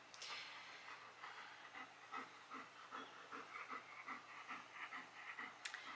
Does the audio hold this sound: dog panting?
yes